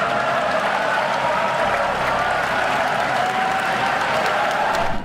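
A large audience at a State of the Nation address breaks into sustained applause, dense clapping that stays loud and even from start to finish and is heard without any speech.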